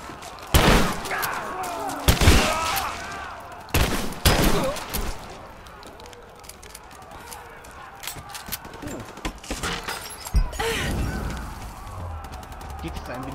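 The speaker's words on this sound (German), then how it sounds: "Schuss!" Loud bursts of gunfire in the video game Rise of the Tomb Raider crack out every couple of seconds, then sparser shots, with people talking in between.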